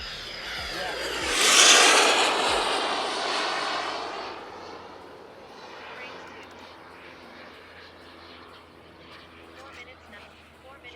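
A twin turbine RC jet roars past close overhead, a loud whooshing turbine scream that peaks and then fades into a distant whine; people talk faintly in the background.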